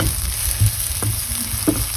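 Garlic fries in oil in a pan for a Chinese-style pork dish, a steady close sizzle with a few light stirring knocks and scrapes, no talk over it.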